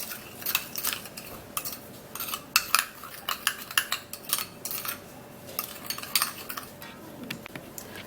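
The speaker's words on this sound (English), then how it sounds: "we're just going to be mixing this all up" A coconut oil teeth-whitening paste is mixed by hand in a bowl, with irregular close clinks and scrapes of a utensil against the dish, some sharper taps standing out, and no voices.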